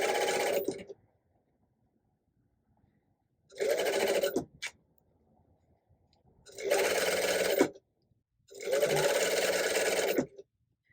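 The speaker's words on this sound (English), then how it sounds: "I'm going to go over the previous start stitches to help lock those stitches in place." A sewing machine stitches denim jeans close up in four fast, steady bursts of whirring with silent pauses between them, going back over earlier start stitches to lock them.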